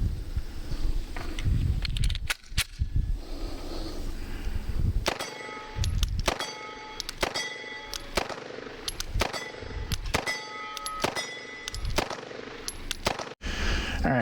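SIG P320 pistol with a JMB slide, Mischief Machine lower, wood grips and Armory Craft trigger fired on an outdoor range, a steady series of sharp loud gunshots with ringing metallic clangs of steel targets in between.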